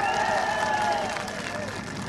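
A crowd at a TDP political public meeting in Kuppam claps and cheers in a dense, steady wash of applause that stays loud for the whole stretch, with crowd voices mixed into the clatter.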